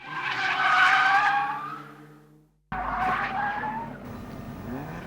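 A race car skids during an advanced skid control lesson at a racing school: two loud, close tire squeals, the first long and wavering, then a brief silence before a second harsher squeal.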